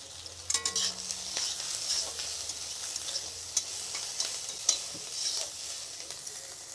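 Onion and ginger frying in a pan, a soft, continuous sizzle with light stirring scrapes and taps, fairly quiet and close.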